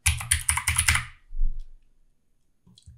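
Brisk burst of typing on a computer keyboard while entering an effect name in Premiere Pro, about a second of rapid close clicks followed by a few scattered soft taps, with no voices.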